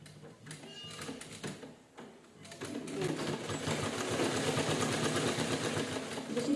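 A sewing machine stitches piping onto a blouse, its motor building into a steady, fast run after a few short starts, close and fairly loud with no talk over it.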